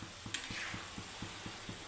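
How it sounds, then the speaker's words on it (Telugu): A spoon works through an amla (usirikaya) pickle mixture in a pan with soft, regular scraping strokes about every quarter second over a gentle sizzle. "మధ్యలో కలుపుతూ ఉండాలి అప్పుడప్పుడు"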